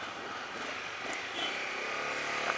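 Honda CRF250 motorcycle riding through Kathmandu city traffic, a steady engine drone mixed with surrounding traffic noise, fairly faint and continuous.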